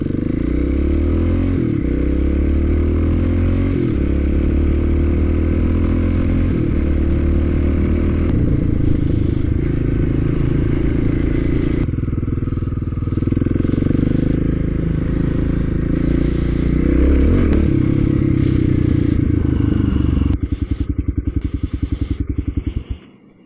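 A Kawasaki KLX 250 dirt bike with a big-bore kit drones and revs up through rising gears, loud and close, with mechanical clatter underneath, ending in a sharp rev before cutting off.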